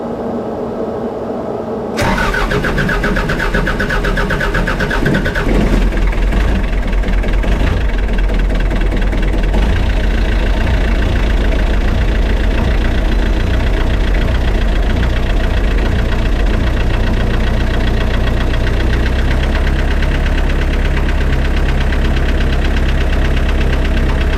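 A diesel engine fitted with new Zexel injectors cranks and fires after a couple of seconds, then settles into a loud, steady idle with a knocking rumble that runs close and continuous for the rest of the clip.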